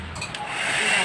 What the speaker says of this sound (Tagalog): Just make sure na blower natin siya